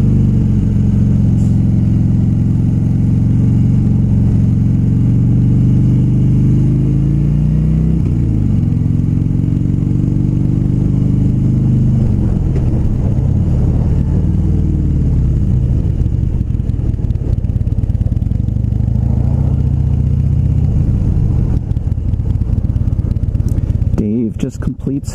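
A 2016 Harley-Davidson Low Rider motorcycle on a test ride, its engine droning loud and steady with rises and falls in revs throughout, ending in a brief rattle of clatter.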